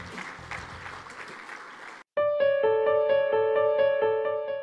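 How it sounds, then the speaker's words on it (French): Audience applause at a business award ceremony for women entrepreneurs fills the first two seconds as a dense, steady clatter of many hands, then cuts off abruptly and gives way to loud, bright tonal music with a regular pulsing beat. "Sous vos applaudissements, là je vous charge"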